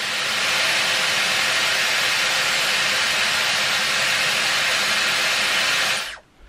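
A Dyson Airwrap blows cold air while curling hair, a steady loud close-up rushing hiss that holds evenly for about six seconds and then cuts off abruptly.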